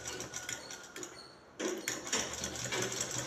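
Sewing machine stitching along the edge of a shirt collar band, a steady close mechanical whir with a short pause before the stitching resumes louder, no voices.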